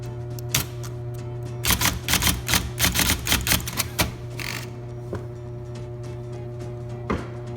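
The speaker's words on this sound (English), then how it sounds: "Then type Typewriter." Rapid bursts of mechanical keystrokes from a 1973 IBM Correcting Selectric II electric typewriter, a dense flurry in the middle with scattered single clacks before and after, over a steady motor hum.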